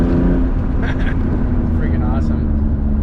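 A straight-piped BMW E36 M3 with a freshly fixed valve-cover leak drones loudly and steadily from inside while driving, a constant low exhaust rumble with faint voices in the cabin.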